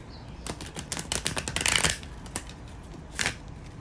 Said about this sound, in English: let's go ahead and give another shuffle